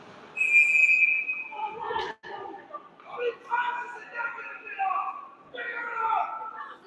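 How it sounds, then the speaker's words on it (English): During an ACHA college ice hockey game between Bridgewater State and UConn, a referee's whistle gives a clear, shrill blast that stops play after the net comes loose, with an announcer talking over the arena's background noise. "the play is whistled dead as the net comes loose"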